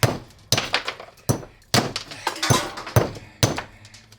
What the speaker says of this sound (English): just use the freaking hammer